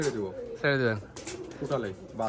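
Pigeons at a pigeon farm coo in several low, throaty bursts, close and fairly clear, with a person speaking intermittently between the calls.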